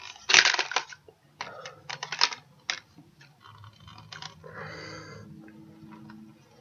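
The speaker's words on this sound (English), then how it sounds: "If you can hear little grinding noises, that's the tail sword jamming up against my keyboard" A plastic toy Megazord's tail sword grinds and clicks against a computer keyboard, a burst of sharp crunchy scrapes followed by softer, intermittent rattling and rubbing up close.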